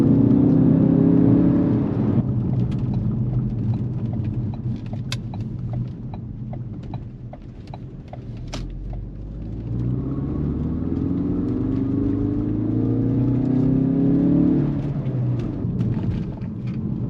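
Ford Focus RS MK3 driving on the road, its engine note rising under acceleration, dropping away during a gear change in the middle, then pulling up again with a steady rumble from inside the cabin.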